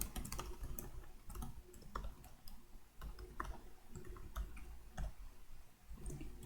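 Steady typing of Java code on a computer keyboard, with rapid, close clicking keystrokes in an irregular rhythm that runs the whole time at a soft level.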